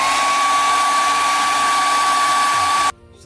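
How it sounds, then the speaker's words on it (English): A blow dryer heats a dbrand skin being applied to an iPhone, roaring steadily and loudly up close with a whining tone for about three seconds before cutting off abruptly. "you want to grab the blow dryer"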